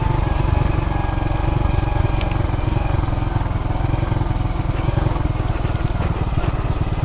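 A motorcycle, its tires fitted with spikes, rides a muddy rural road near Awao Falls in Monkayo, Compostela Valley, its engine a steady, loud, close drone with clattering over it throughout.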